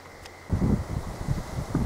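Gusty wind buffets the microphone outdoors on an open moor, low rumbling bursts starting after a quiet moment and continuing in uneven puffs.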